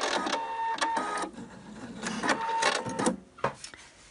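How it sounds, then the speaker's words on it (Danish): A domestic sewing machine stitching a zigzag edge on fabric for baby bloomers, running in short bursts with brief pauses between, close and fairly loud. "Men lige i dag bliver det på symaskinen."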